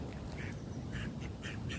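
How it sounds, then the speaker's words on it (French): Several ducks quack in short bursts at a park, a few nasal calls spaced across a brief moment, fairly close over soft background noise. "Donc là du coup on a des canards"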